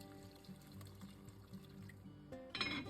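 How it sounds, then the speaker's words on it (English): Hot water pours steadily into a pot of beef stew on the stove, a continuous liquid splash that swells and brightens near the end as the pot fills. "At this time, also add enough hot water so that the liquid in the pot almost"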